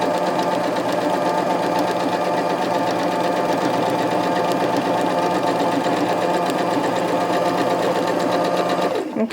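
A sewing machine runs steadily for about nine seconds, stitching a rag quilt bag with a loud, even mechanical whir that continues nonstop and then cuts off at the end.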